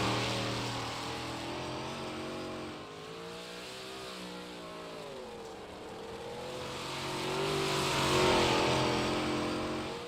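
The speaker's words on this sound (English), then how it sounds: "I believe Ryland Banks going to be the first car out" A race car engine on a sim racing broadcast accelerates out for a qualifying lap, loud and close, its pitch sweeping up and down through gear changes and swelling toward the end.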